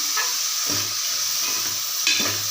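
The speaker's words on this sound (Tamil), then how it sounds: "இதை இந்த எண்ணெயில் நல்லா வதக்கிடலாம்" Chopped onions fry in oil in a pan for a vegetable side dish, a steady close sizzle with a few soft stirring scrapes and clinks, no voices.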